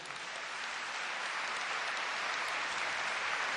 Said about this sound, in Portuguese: Pode aplaudir esse homem.